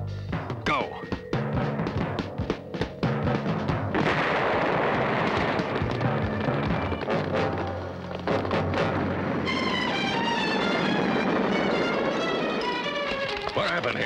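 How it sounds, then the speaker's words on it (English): A dense, noisy stretch of loud blasts and crashing bursts from a safe being blasted open, with a thunderous rumble throughout and clanging debris-like hits, busy with overlapping action sounds. "Somebody tried to blast open the safe"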